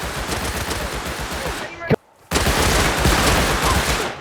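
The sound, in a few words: AK rifle gunfire in the video game Rust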